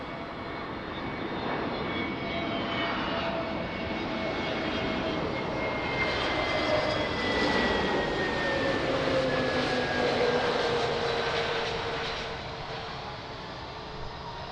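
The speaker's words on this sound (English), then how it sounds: "Now that's what I call a butter landing." An airliner making a smooth landing on runway 02 at Lisbon Airport, heard as a steady, loud engine roar with shifting whining tones that swells toward the middle and then eases slightly, with no talk.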